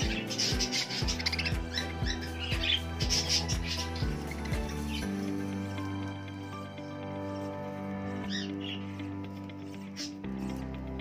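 Several pet birds in a colony chirp and squawk close by in short irregular bursts over a soft steady background hum.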